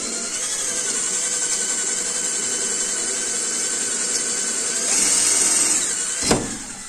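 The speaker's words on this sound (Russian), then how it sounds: "Ну все сверлит." Drill bit cutting into a hard steel pipe, a steady high whine with grinding overtones that strains and rises near the end, then a sharp clunk as it stops.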